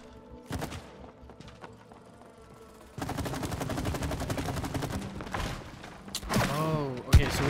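Target shooting in the cooperative game It Takes Two, with sharp shots and a dense, continuous stream of firing bursts layered over game music and effects, loud and near.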